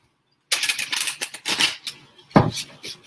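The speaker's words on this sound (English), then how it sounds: "Let us see how it shuffles." A stiff, brand-new oracle card deck fresh out of the box being shuffled by hand, a burst of riffling clicks and flicks starting abruptly, close and fairly loud, with a heavier thump partway through.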